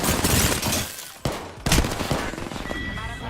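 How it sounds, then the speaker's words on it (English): Weapons fire loudly in the Apex Legends video game. Dense, rapid volleys of gunshots stay close and intense, broken by two brief gaps before more bursts. "Opening fire."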